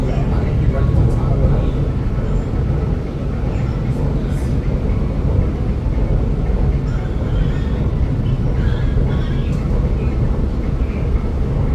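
An MRT Putrajaya Line train runs with a loud, steady low rumble and rolling hum, continuous throughout with faint higher squeals, heard from inside the carriage.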